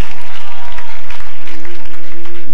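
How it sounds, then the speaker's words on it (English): Congregation clapping at a church service with Prophet Ken O Soronnadi, loud, continuous dense applause filling the room, with no voices standing out. "No, you are not clapping for me"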